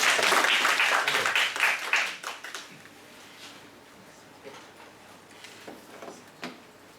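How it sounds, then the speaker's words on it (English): Applause from an audience at an AI talk event, a burst of clapping that is loud at first then thins out within about two seconds, followed by scattered faint taps and shuffles. "maybe give a round of applause to thank you"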